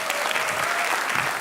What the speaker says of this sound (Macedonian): Спонтана аплауз за Зоки, ве мола.